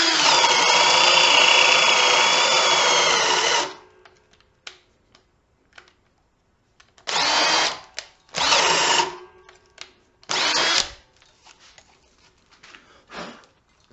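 A Ridgid cordless drill bores into wood with a speed bore bit, first in one long steady run of several seconds, then in three shorter bursts separated by near-silence and faint clicks.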